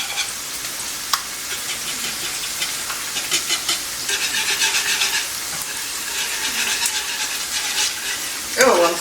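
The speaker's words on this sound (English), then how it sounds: "I'm going to get a whisk and we're going to mix this up." A whisk stirs plain Greek yogurt in a bowl, giving a steady, close, wet scraping and clicking that runs the whole time, growing a little busier near the end.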